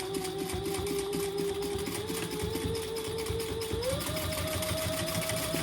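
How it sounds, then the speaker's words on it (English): A sewing machine runs steadily while stitching a fabric clutch organizer wallet, giving a close, fast, even mechanical whir with rapid needle ticking and a slight speed change near the end. "And now we're gonna sew, and I'm just holding it."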